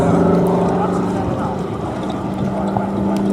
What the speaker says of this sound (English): the Sea Fury was the last fighter made in this country to be propelled across the sky by a propeller and not by a jet engine